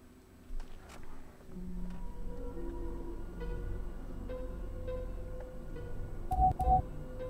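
A phone rings in the horror video game Play with Me: two short electronic tones near the end over a faint ambient hum, with scattered soft clicks earlier.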